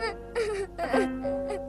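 A woman's wailing cry, drawn-out moaning sobs rising and falling in several bursts over a steady low hum, fairly close and alone with no talk.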